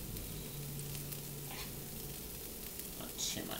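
Fake butter sizzles in a frying pan for a tofu-chicken, green bean and onion stir-fry, a soft steady crackle close by with a brief louder hiss near the end.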